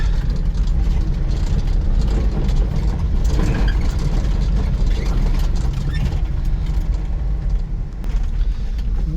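A 1998 Suzuki Carry 3-way dump truck, 4x4 with a five-speed manual, runs with a steady, close, low engine rumble throughout, a faint voice briefly underneath.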